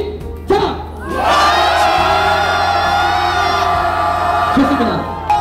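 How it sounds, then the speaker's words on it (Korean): Protest crowd outside the presidential residence in Hannam-dong, Seoul, raising a loud sustained cheer and shout on cue, a massed roar that swells after a brief opening and holds steady for several seconds. "자, 3초 동안 함성"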